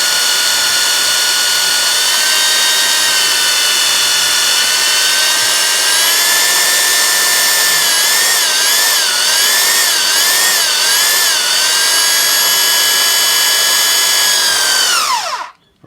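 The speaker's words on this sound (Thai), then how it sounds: "เจาะเลยครับเจาะให้ทะลุฝั่งนั้นนะครับ" A power drill whines steadily at high speed for about fifteen seconds, wavering briefly mid-bore, then winds down abruptly at the end.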